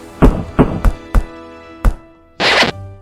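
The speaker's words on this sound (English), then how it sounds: "Crash, 4 wooden blocks." Cartoon wooden blocks clatter down in a children's 3D animation: five sharp hollow thunks in an uneven sequence, then a longer rattling tumble, loud and close over light music.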